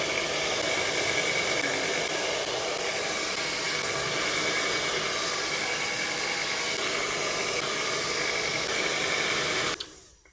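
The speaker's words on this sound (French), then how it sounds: "on va utiliser un sèche-cheveux" Hair dryer blowing steadily at close range while drying fresh paint on a guitar body being refinished, a continuous broadband whoosh that runs unbroken for about ten seconds before cutting off abruptly.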